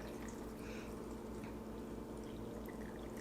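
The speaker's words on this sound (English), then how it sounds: "now all you have to do is pour in that beautiful apple cider vinegar" Apple cider vinegar is poured into a glass jar for fire cider, a soft continuous trickle and splash of liquid. The stream is quiet and steady, with no talk.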